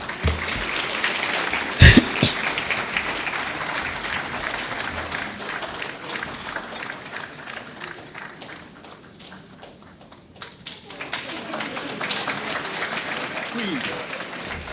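Audience applause at the Ghana-Canada Investment Summit after a keynote address, a sustained crowd clapping that dips briefly midway and swells again, with a sharp knock near the start and some voices mixed in.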